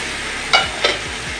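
Rice frying with egg in a pot hisses with a steady sizzle, while two distinct scraping strokes of a spatula stir through it in quick succession.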